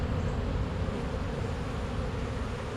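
Honeybees swarm and buzz at an opened hive early in the year, a dense, steady drone that fills the air closely and continuously without pause.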